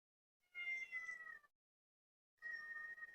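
A house cat meows twice, with a pause between: a longer, wavering cry and then a second, steadier one. Both are fairly faint, in an otherwise silent room.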